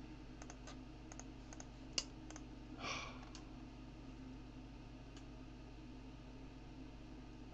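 Faint, quick computer mouse clicks, several in a loose cluster, sit over the steady low hum of a computer fan.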